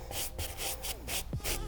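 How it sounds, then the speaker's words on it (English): A soft bristle brush scrubs a shoe with cleaning solution in four or five quick rhythmic strokes, each a close, soft, hissing swish. "I'm just gonna go ahead and get into it with our soft bristle brush"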